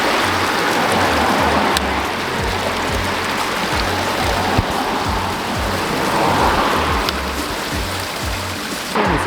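Continuous rushing water, a broad steady wash of clear mountain stream flowing nearby, with no voices over it.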